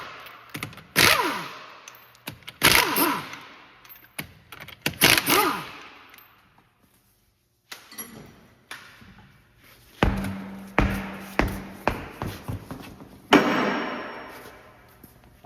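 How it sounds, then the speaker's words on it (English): Lug wrench work removing five 19 mm wheel nuts from a 2007-2014 Ford Edge wheel, giving a series of loud, close clanks, clicks and thuds in bursts with brief pauses between nuts. "To get the wheel off, we've got 5 19 millimeter wheel nuts. So we're gonna go ahead and take those off now."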